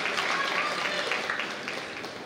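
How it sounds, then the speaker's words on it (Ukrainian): Crowd applause from the audience at a professional boxing event between Ukrainian boxers in the 76.2 kg division, a steady dense clapping that holds throughout and fades slightly toward the end. "Ще раз ваші оплески."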